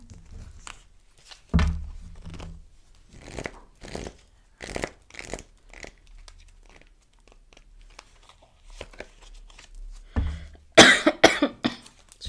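A woman gives a few sharp coughs, close by, separated by stretches of quiet with faint rustling; a harsher burst of coughing near the end.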